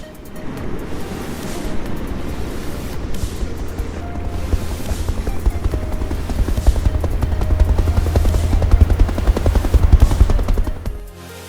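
A loud, steady rotor thrum of a helicopter rescuing a man from the turbulent Los Angeles River blends with rushing water and wind noise, building slightly louder toward the end before cutting off.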